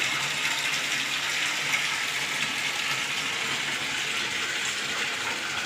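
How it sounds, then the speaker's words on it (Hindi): Water gushes fast and steady from a tap into a red drum, a continuous loud hissing rush with no pauses and no voices. "ये देखिए कितना फास्ट पानी है,"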